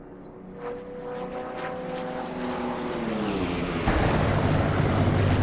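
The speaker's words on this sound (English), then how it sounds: "Lovely pass in a Spitfire" A Spitfire in the flight simulator DCS makes a low pass, its propeller engine drone rising in pitch, sweeping downward and swelling into a loud roar as it rushes past.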